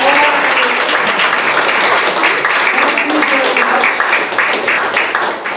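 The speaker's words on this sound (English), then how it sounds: "A round of applause for all." Loud, dense audience applause at a live magic show, a continuous wash of many hands clapping close by for several seconds without a break.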